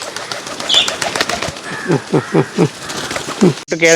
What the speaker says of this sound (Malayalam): പ്രാവ് ഇങ്ങനെ കളിക്കുന്നുണ്ട്.